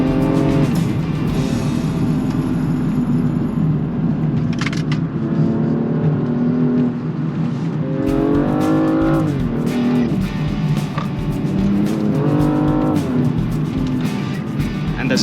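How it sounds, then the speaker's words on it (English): A Toyota Supra or BMW M235i with a ZF gearbox driven hard on a damp road, engine roaring loud and close, revving up through repeated climbs and shifts as the car fights for grip. "And it is fighting for grip right now, guys. The car is fighting for grip."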